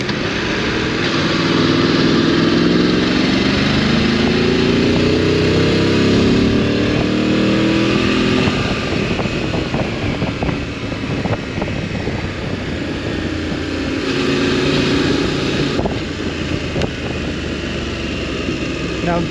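Motorcycle riding along a freshly laid smooth tarmac road, its engine a loud steady drone with rising and falling revs throughout, mixed with wind noise as a rider talks over it.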